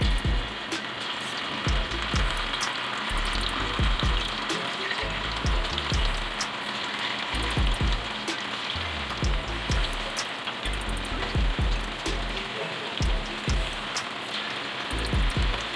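Tofu and fish frying in hot oil one piece at a time, a close crackling sizzle with irregular popping bursts running continuously.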